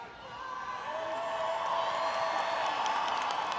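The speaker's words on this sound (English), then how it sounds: "And through your applause, express your gratitude for all they have done to see you to this day." Steady, dense applause and cheering from a large audience filling a college commencement hall at New York City College of Technology, with scattered whoops, sustained throughout at a moderate distance.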